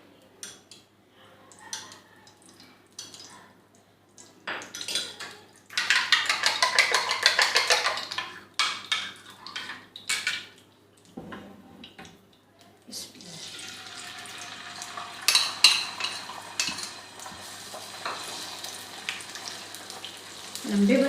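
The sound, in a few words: frying beaten eggs with black pepper and salt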